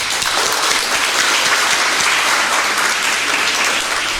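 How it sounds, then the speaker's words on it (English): Sustained congregational applause at an English-language worship service at FJKM Ambodivona Filadelfia church, loud, dense clapping from a crowd holding an even level throughout. "applause for God"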